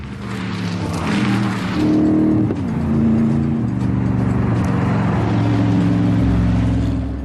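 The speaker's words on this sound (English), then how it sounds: "the only thing disturbing the peace are light aircraft and the occasional low-flying supercar" Gumpert Apollo supercar engine roaring steadily as it drives at a regional airfield, loud and close with rising and shifting engine tones throughout, no talk.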